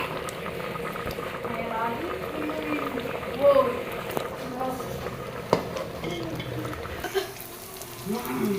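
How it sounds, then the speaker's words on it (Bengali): A pot of khichuri bubbles at a low, steady simmer, heard close but soft, while a voice speaks at times over it. "খিচুড়ি বসিয়ে দিয়েছি এখানে খিচুড়ি ফুটছে"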